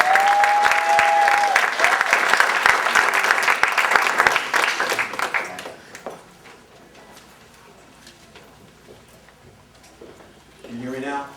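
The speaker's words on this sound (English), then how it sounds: "Let's give them a big round of applause." Audience applause at a town hall with the L.A. City Attorney: a loud, dense round of clapping with a brief whistle, fading out after about six seconds into a quiet room before a voice returns.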